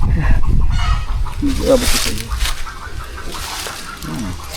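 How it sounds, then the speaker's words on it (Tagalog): Chickens clucking and honking nearby outdoors at a ginger field, busy bird calls mixed with rustling and someone talking over them. "nandiyan naman ang mga manok"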